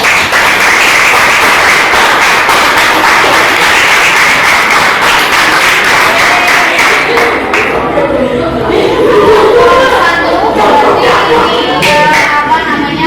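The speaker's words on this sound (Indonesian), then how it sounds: "aplaus dulu buat kelompok 3" A classroom full of students applauds group 3 with sustained, dense clapping from start to finish, loud and close, with a murmur of voices in the last part.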